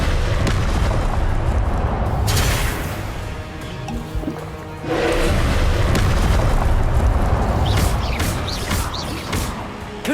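Confringo spell explosions in Hogwarts Legacy land as loud, booming blasts. They roar in two surges with a brief dip between them, and crackling bursts come near the end.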